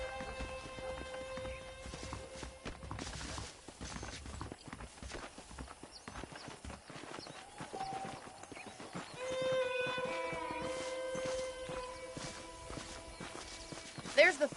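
Saddled horses in Red Dead Redemption clip-clop at a steady walking pace, their hooves clear beneath ongoing speech, with an occasional faint whinny and ambient game music.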